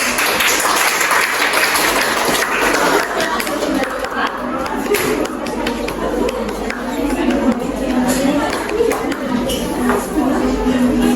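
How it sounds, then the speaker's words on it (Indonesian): A classroom of students applauds group 1 during a lesson, steady close clapping mixed with chatter and shuffling voices throughout. "Beri tepuk tangan untuk kelompok 1."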